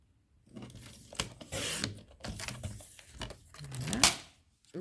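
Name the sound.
cutting scrapbook paper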